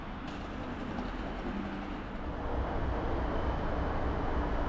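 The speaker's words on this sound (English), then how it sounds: "Down on the tracks we can enjoy a Class 77 diesel loco, which is idling away the afternoon" A Class 77 diesel locomotive idles at a station platform, a steady low rumble with a constant drone that swells slightly partway through, heard alone without voices.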